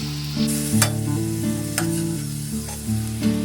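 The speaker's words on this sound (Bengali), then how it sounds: "দেখুন এগুলো আমি কি সুন্দর লাল লাল করে ভেজে নিয়েছি" Potato snack sizzling as it fries in a shallow layer of oil, a steady crackling hiss that runs throughout with a few sharper spits, under a continuous musical background.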